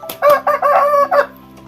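Free-roaming chickens call loudly up close, a series of short clucking bursts in quick succession followed by a fading tail, with a low steady hum underneath.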